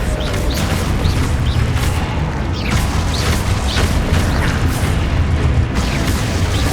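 Expulso and Confringo spells go off in quick succession during a Hogwarts Legacy fight, a dense, continuous wash of loud booms, crackles and bright zapping chirps with no pause.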